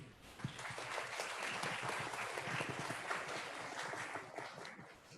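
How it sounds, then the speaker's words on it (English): Quiet, somewhat distant applause from the audience at an education conference, a steady patter of clapping that holds for several seconds and eases slightly at the end. "Please give her a big round of applause."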